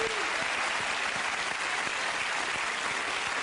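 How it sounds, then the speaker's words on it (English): Steady applause from a TV talk-show studio audience, a dense continuous patter of clapping at an even level throughout. "it's round of applause"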